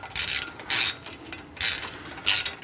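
A ratchet tightens hex bolts during a Brembo GT big brake kit install on a BMW 1M, heard as four short, close clicking bursts with pauses between them and no talking.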